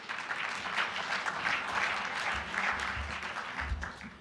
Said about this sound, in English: That is something to clap about.